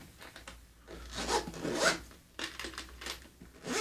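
A zipper on a small hard case is pulled in several quick, raspy strokes, loudest in the middle, with short pauses between pulls; close and fairly quiet.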